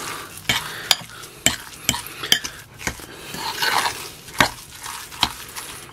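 Wild garlic and cottage pie ingredients mashed in a Trangia camping pot, with sharp metallic scrapes and knocks of a utensil against the pot in an irregular rhythm, close and clear, no talking.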